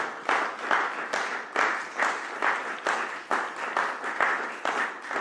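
Audience applause at a brass band association's general assembly: steady, dense clapping from a large crowd with rhythmic surges, sustained throughout without speech.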